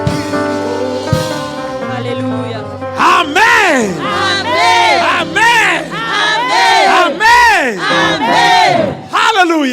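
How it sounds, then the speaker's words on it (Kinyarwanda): A congregation at an evangelistic gathering in Brussels claps and ululates joyfully, shrill wavering trills rising in repeated loud bursts over steady applause and shouting, with voices mixed in throughout. "Amashyi n'impundu nyinshi cyane"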